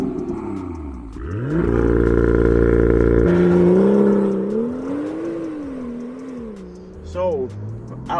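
A BMW M2 revs hard and pulls away. The engine note climbs sharply, holds at high revs, then settles into a wavering cruise tone that rises and falls, loud and close.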